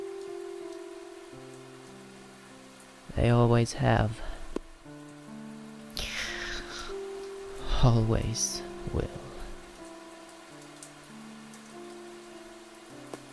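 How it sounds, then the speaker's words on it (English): Rain falls on hard asphalt in a steady, soft patter that runs throughout, beneath a calm narrating voice and a low sustained musical drone. "watch the raindrops hit the hard asphalt for a few seconds"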